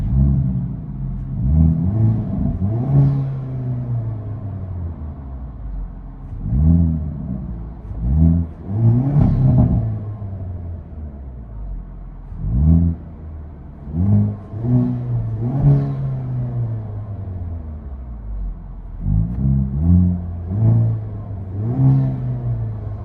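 Heard from inside the cabin, a 2023 Hyundai Kona N 2.0L turbo fitted with a Stainless Bros resonator is revved repeatedly, its engine rising and falling in loud, rumbling sweeps with brief idles between the pulls.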